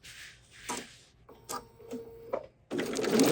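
A sewing machine stitching a quilt runs in short separate bursts, with a brief whir and a few mechanical clicks between pauses, ending in a louder, steadier run of stitching.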